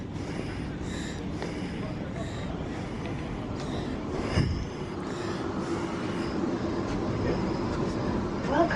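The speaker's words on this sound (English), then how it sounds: "This train goes to Milton Keynes." Interior rumble of a London Northwestern Railway train heading to Milton Keynes, a steady low rolling drone with faint clanks, while people talk nearby over it.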